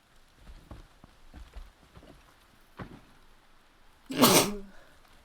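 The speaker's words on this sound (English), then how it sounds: "It seems fitting that I sneeze and snot myself" A single loud, abrupt human sneeze bursts out near the end, close and broadband, following stretches of faint, intermittent murmuring.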